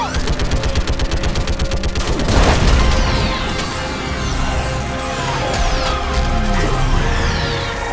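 Dense rapid gunfire in Mass Effect 3 after a firing order: sustained bursts of automatic shots with a heavy boom and crashing impacts, loud and continuous with no talk.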